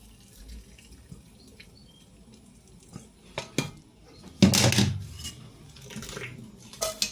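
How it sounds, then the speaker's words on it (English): Pasta and its cooking water being drained over a bowl in a kitchen, a burst of pouring, splashing water in the middle amid quiet clinks of cookware and a few scattered knocks. "so we'll just drain it out over a bowl"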